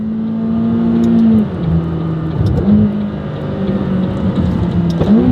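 A McLaren loaner car drives with a steady engine drone, gear-like pitch steps and rising revs, close and loud throughout, with no voices.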